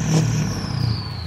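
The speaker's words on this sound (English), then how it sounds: "listen to this exhaust. It is aftermarket." A 2003 Ford F-250 diesel truck with an aftermarket exhaust revs up loudly for about a second, with a deep rumbling exhaust note that quickly settles.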